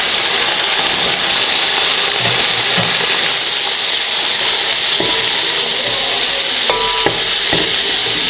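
Steady sizzling and frying hiss of boiled minced beef stirred into frying onions, with occasional clanks and scraping of stirring in a pan; no talking.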